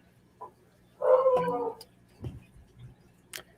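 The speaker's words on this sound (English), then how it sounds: "Boy, there's a really mad dog outside." Dog outdoors giving an angry, drawn-out howling bark followed by a few shorter barks, heard at moderate distance without talk over it.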